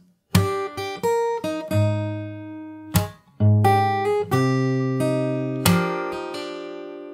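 Fingerstyle acoustic guitar plays a song section slowly, a series of distinct plucked notes and ringing chords with brief gaps, close and full.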